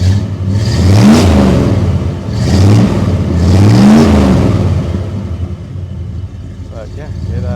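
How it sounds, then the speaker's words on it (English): A supercharged old Ford Bronco truck engine revving loudly and close up, with three rising and falling throttle blips before it settles to a rougher idle. "It's just a fun old truck, and I do have some belt squeal on here at times."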